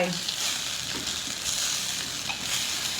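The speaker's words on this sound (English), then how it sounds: "They are really sizzling now, and I reckon they're nearly done." Loud continuous sizzling of vegan kofte kebabs frying in a pan, a dense crackling hiss that stays steady throughout.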